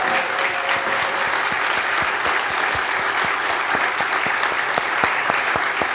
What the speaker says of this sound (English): So could you stand for 1 minute so we can applaud you?